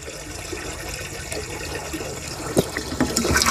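Water pours steadily into a garden sprayer tank outdoors, a continuous rushing fill with a few brief splashy knocks near the end, fairly close and moderately loud, no voices.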